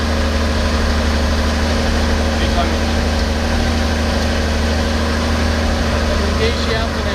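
A Robinson R44 helicopter's piston engine runs steadily with the clutch engaged, a loud, even drone with a buzzing vibration heard from close by while someone talks.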